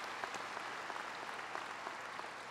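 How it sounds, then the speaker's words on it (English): A high school graduation crowd applauding in a large hall, a steady wash of many hands clapping, distant and fairly quiet, with no talking over it. "One more round of applause."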